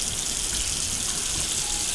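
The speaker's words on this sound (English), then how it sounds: "you're going to put some cold water on top of them" Cold tap water pours steadily over drained lasagna noodles in a colander, a continuous loud splashing gush with no pause.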